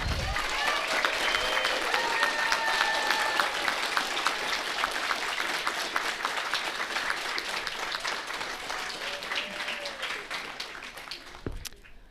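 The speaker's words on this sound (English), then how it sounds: "please stand so we can applaud your wonderful work" At a transition program graduation, the audience gives a long, steady round of applause for the career and technical education staff, with a few cheers and whistles over the clapping, which thins toward the end.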